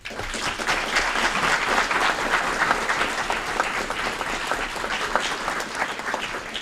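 Sustained crowd applause at an Aurora city Committee of the Whole meeting, a thick even wash of clapping lasting several seconds with no talking over it.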